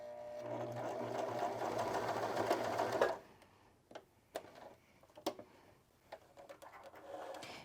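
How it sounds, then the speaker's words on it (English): A sewing machine runs a back stitch on a seam of a fabric reusable pad, a steady close whirring hum for about three seconds, then stopping, followed by scattered faint clicks and handling taps. "you're going to finish your seam with a back stitch so that it is firmly in place."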